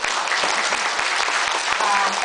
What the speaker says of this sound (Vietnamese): xin quý vị một tràng pháo tay thật lớn